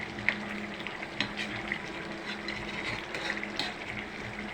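Escabeche tilapia boils in a pot, giving a steady low bubbling and sizzling hiss with small irregular pops, close and moderately quiet, with no talking.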